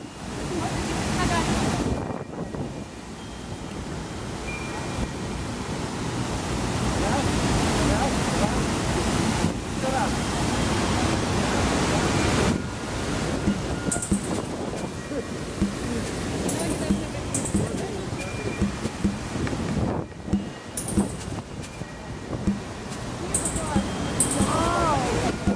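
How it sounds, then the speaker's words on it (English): Tegenungan waterfall in Bali roars as a loud, continuous rushing wash of water, mixed with gusts of wind buffeting the microphone and bits of voices nearby. "Look at the waterfall."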